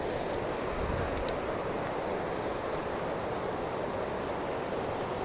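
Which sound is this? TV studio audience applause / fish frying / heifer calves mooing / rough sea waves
rough sea waves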